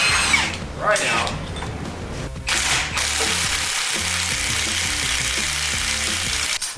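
An impact-style power tool rattles a crank pulley bolt off a truck engine, loud close buzzing bursts followed by a sustained whirring run, with someone speaking briefly.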